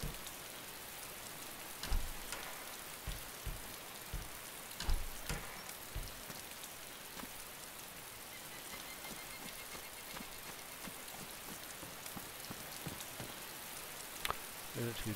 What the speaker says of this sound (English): Rain is teeming down.